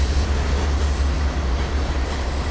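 A train runs in the Trainz Railroad Simulator 2019 video game, a loud, steady low rumble with rolling wheel noise that stays constant throughout.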